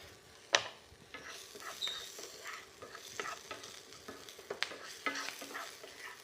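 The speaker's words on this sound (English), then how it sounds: "Now we just saute that for a little while, but let's not burn the garlic at this point." Garlic sautéing in a pan for stuffed tomatoes, a quiet crackling sizzle with repeated utensil clicks and scrapes from stirring, close and fairly faint, with no speech.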